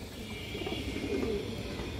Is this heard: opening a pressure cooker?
no